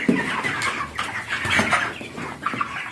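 A dense flock of 35-day-old broiler chickens in a poultry house, with many overlapping clucks and chirps forming a constant, busy chatter up close and no voices.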